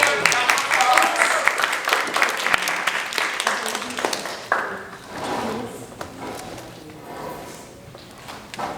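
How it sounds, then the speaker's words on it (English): Audience applause welcoming a guest speaker at a school alumni showcase, dense clapping for about four seconds that thins into scattered claps and faint crowd murmur. "So everyone give him a round of applause."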